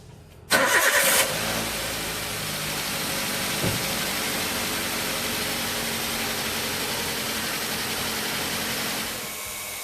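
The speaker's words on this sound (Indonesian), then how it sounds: "kemudian nyalakan mesin" A car engine cranks and fires up after its radiator coolant is refilled, then settles into a steady, loud idle that runs on alone for several seconds with no talking.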